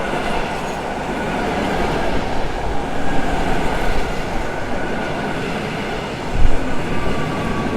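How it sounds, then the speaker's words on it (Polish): An electric commuter train rumbles past up close at Warszawa Zachodnia station, with a steady roar of wheels on rails and a brief louder clatter near the end. "To pociąg, który wyruszył ze stacji Warszawa Główna."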